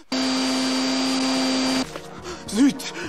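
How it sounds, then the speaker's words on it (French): A vacuum cleaner whines loudly and steadily for under two seconds, then shuts off abruptly, leaving faint voices and clatter behind. "Zut, l'aspirateur, j'ai oublié de l'éteindre."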